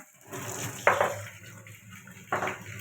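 Tap water runs into a kitchen sink while food is washed during rainy-season cooking, a soft, quiet stream broken by two brief splashy surges as items go under the flow.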